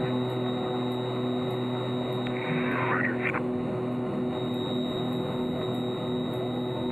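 Aerostar twin-propeller airplane taking off from a short runway, a steady loud engine drone with a constant hum filling the whole stretch from a cockpit perspective.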